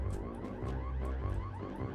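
Looping electronic alarm from the Hello Neighbor: Hide and Seek video game, a steady pulsing tone with a repeating rhythm that fills the short stretch on its own without any voices.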